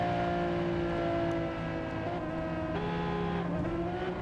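A loud race car engine drones and shifts pitch in Gran Turismo 7, a dense harmonic roar that steps up and down as gears change, without pause throughout.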